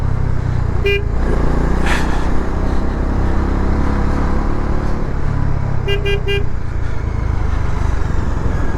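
A vehicle descending a Himalayan mountain road between Keylong and Tso Moriri holds a steady low engine drone. Short horn toots sound once early and in a quick triple burst later.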